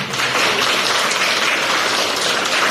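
Dense, loud applause from an audience at a summer camp dance show held by a fitness dance academy, a steady unbroken wash of clapping filling the whole moment with no voices on top.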